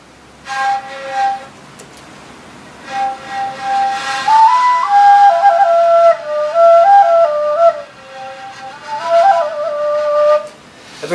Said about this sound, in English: Very gentle flute